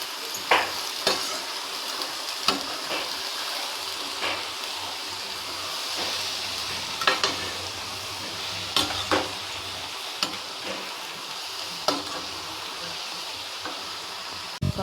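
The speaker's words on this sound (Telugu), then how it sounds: "ఆ తర్వాత వాష్ చేసుకున్న తోటకూరని అందులో వేసుకొని కలుపుకోవాలి." Washed amaranth leaves being stir-fried in a pan, a low continuous sizzle broken by regular sharp clinks of a spatula against the pan, close by with no speech.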